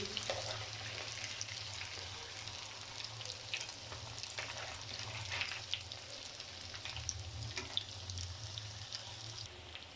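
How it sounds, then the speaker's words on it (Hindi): Vegetable cutlets fry steadily in a hot pan, giving a continuous soft sizzle and crackle with a few sharper pops, close and unbroken, with no voices. "एक साइड मैंने इसकी 2 मिनट पकाई है और दूसरी साइड भी मैं इसकी 2 मिनट ही पकाऊंगी।"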